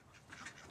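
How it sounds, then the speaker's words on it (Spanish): A brief, faint quack from one of a small farm flock of domestic ducks, heard alone at low level. "Tengo 42 patos."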